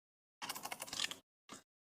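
Keystrokes on a computer keyboard, a quick burst of close, crisp typing lasting under a second, then a short pause and one final brief cluster of taps.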